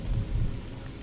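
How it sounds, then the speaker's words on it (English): A low, distant rumble of thunder rolls briefly beneath steady rainfall, swelling then fading. "Thunder rolls far beyond the hills,"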